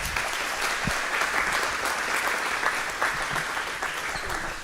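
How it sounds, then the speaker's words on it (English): Audience at a Principles First dinner in Northern Kentucky/Cincinnati applauding the event volunteers, a steady wash of clapping from a moderate-sized crowd at medium distance, with no speech over it. "if you can please give them a round of applause"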